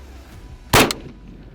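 A single sharp rifle shot rings out close and loud while a thermal scope is being zeroed, with a short decay before quiet returns.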